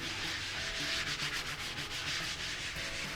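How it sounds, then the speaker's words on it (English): Flour being rubbed by hand onto a pizza peel while prepping New York style pizza, a steady, close, continuous dry scrubbing hiss that runs without pause. "I'm just going to take some flour, rub it in real good."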